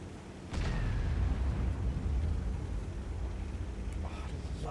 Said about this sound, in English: Oh, I love how artillery sounds.